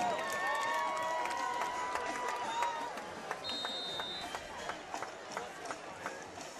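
Crowd noise from a homecoming crosstown rivalry high school football game at night, Central Maroons against Centennial Chargers, a steady roar of cheering spectators with whistles and scattered shouts filling the whole stretch.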